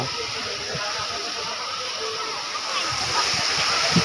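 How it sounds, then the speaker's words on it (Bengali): A park fountain splashes steadily in a broad, continuous wash of falling water, loud and close, with no pauses over its length. "চোখে লাগবে ঝর্ণা।"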